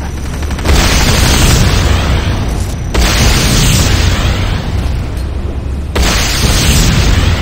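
Three heavy structure explosions in the game Renegade (Command & Conquer), each a loud booming blast with a long rumbling tail, arriving at roughly even intervals and sounding close and powerful with no talk.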